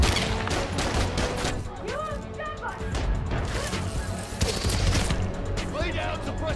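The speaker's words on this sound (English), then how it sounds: "Lay down suppressing fire!" Suppressing gunfire from enemies in Marvel's Spider-Man: Miles Morales, with dense, loud bursts mixed with crashes and impacts while game characters shout over the combat.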